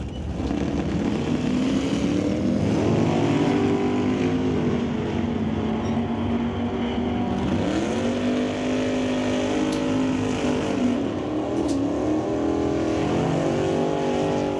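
A 1955 Chevrolet Bel Air drag car in the right lane at Mission Raceway roars loudly and continuously, its engine pitch climbing, dropping and climbing again through repeated revs and gear changes, close and alone without talk.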